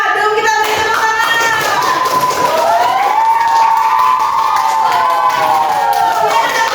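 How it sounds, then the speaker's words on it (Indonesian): Classroom applause at an elementary school as pupils clap for the winning group, a steady dense patter of hands with a noisy crowd murmur and children's voices rising and falling throughout. "kelompoknya Madum, kita beri tepuk tangan"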